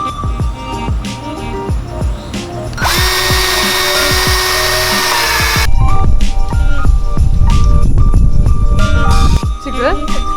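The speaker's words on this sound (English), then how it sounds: "if you feel like the screw isn't going in far enough, just check your dial" A power drill whirs in a steady sustained burst, with clattering, handling noise and voices around it before and after.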